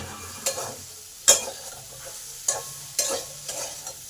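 Pumpkin, potato and pointed gourd fry in a pan over a low continuous sizzle. Repeated close, crisp scrapes of stirring recur about every half second to a second.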